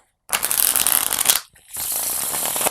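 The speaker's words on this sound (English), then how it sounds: "So I'm gonna go ahead and shuffle." A deck of playing cards for a tabletop card game is riffle-shuffled up close: a loud crisp flutter, a brief pause, then a second steady riffle.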